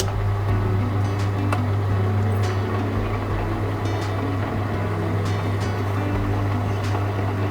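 A metal lathe facing off the end of a 20mm brass round bar, a steady loud motor hum with a low drone and scattered light cutting ticks, continuous throughout.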